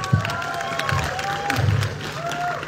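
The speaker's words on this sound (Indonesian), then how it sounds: "Dela Dartian, berikan tepuk tangan dong, yuk." Audience applause and cheering at a live evening talk show, a brief burst of clapping with crowd noise and a few shouts, fairly near and moderately loud.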